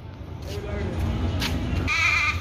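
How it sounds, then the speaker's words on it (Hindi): Goats bleat amid a busy outdoor scene in Pakistan, with a higher-pitched cry rising near the end over steady background noise and nearby voices. "ये देखें 2 बकरे हैं और एक बकरी"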